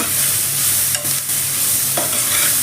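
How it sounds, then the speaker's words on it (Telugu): Tomatoes frying and being stirred in a pan for restaurant-style butter chicken fry, a steady close sizzle throughout with a couple of brief scraping stirs, no voices. "కాస్త టమోటా మెత్తబడేంత వరకు వేయించుకుందాం."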